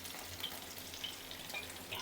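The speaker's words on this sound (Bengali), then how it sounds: "ভেজে নিচ্ছি এটা মাছটা, কাজরি মাছ" Kajri fish fries in oil in a wok, a soft, continuous sizzle with faint crackles, quiet and steady, with no talking.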